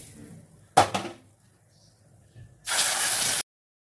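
Panch phoron and whole black peppercorns dropped into a little hot oil, first a sharp crackle, then a loud, close burst of spraying sizzle that cuts off abruptly.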